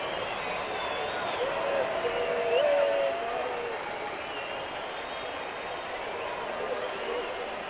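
Large, sunny baseball stadium crowd murmurs steadily in the distance, a broad wash of noise with a slight swell midway, under a broadcaster's talk.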